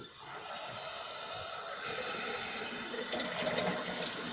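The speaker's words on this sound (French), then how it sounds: "La première chose qu'on va faire, on va mettre de l'eau tiède." Lukewarm tap water runs in a steady hissing stream throughout, close and continuous, without pauses or voices, as a goalkeeper glove is about to be wetted for washing.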